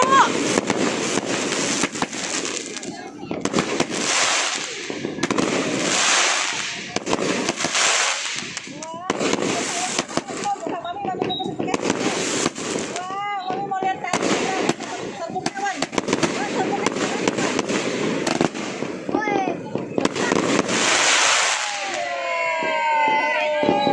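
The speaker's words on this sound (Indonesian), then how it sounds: "Banyak banget kembang api gue main." New Year fireworks burst, crackling and popping repeatedly over a steady crowd murmur, with people talking and calling out throughout.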